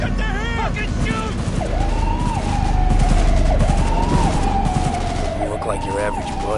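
Rapid gunfire rattles nonstop in a Cyberpunk video game shootout, dense and close, with police sirens wailing underneath and voices shouting over the bursts.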